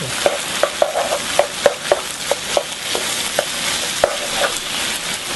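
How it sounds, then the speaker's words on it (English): Black bean paste being stir-fried in a hot pan: a continuous sizzle punctuated by a dozen or so sharp spatula scrapes and taps in a loose, irregular rhythm, close and fairly loud, with no voices. "This black bean paste, add 1/4 cup. And stir fry in the center like this."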